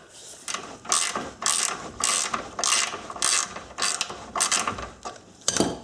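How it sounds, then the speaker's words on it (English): Rapid ratchet clicking in repeated strokes, close and loud, as a hand ratchet loosens a tight bolt during a Subaru ball joint replacement, the rhythm steady with brief gaps between pulls. "then we'll use a ratchet here"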